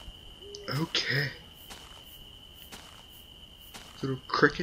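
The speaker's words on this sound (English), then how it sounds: "Little crickets and everything there." Crickets chirping in a night scene of the horror game Slender Man's Shadow, a steady high thin trill running throughout beneath brief bursts of a man's speech and faint footsteps.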